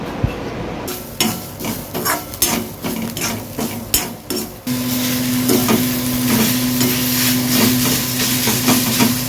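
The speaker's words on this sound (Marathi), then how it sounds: "इकडे कांदा वगैरे भाजते, कांदा आणि कोथिंबीर" Onion and coriander roasting in a pan for a Konkani chicken vade masala, with rhythmic scraping and clattering of a spatula, then a steady sizzle joined by a constant electric hum.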